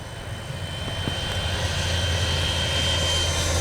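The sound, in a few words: Freewing 90mm F-22 RC jet flying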